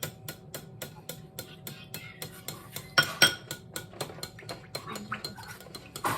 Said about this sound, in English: So I'm just gonna stir it up so that those kind of chunkier pieces disappear.